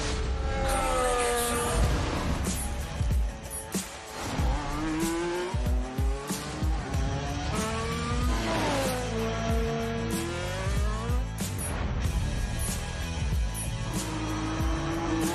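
A Red Bull race car drives hard through city streets, its engine loud and close, revving and shifting up and down with repeated tire squeals throughout.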